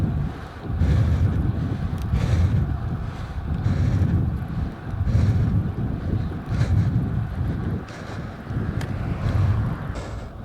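Heavy wind buffeting a Mackie Element Wave wireless lavalier microphone while riding outdoors, rumbling in loud gusty surges that swell and fade for the whole stretch.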